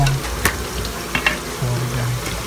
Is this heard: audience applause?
no